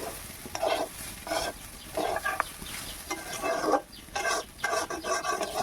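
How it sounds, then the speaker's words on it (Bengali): Spice paste of ground coriander, chili and cumin with green chilies, stirred and fried in a pan for paneer pulao: repeated bursts of scraping and sizzling in an uneven rhythm, close and fairly loud. "দিয়ে ভালো করে নেড়ে চেড়ে ভেজে নেব"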